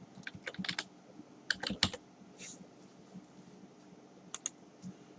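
Keys on a computer keyboard are typed in short bursts of quick, close clicks, with quiet gaps between the clusters.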